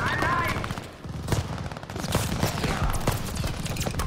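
Gunfire and bursts of flame in a Call of Duty: Vanguard battle scene, with dense, continuous crackling volleys and several sharper shots standing out over a steady roar, some talk mixed in.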